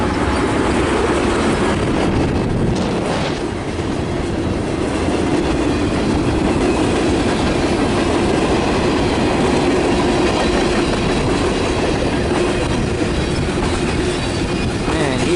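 Long freight train heading eastbound downgrade toward the lakehead on a windy day, a loud steady roar of rolling cars and wheels with faint squeals, continuous and close.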